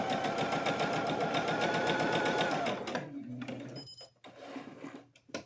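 A sewing machine stitches steadily over a held quilt seam allowance while piecing points, a fast even mechanical chatter for nearly three seconds before stopping, followed by quieter handling noises.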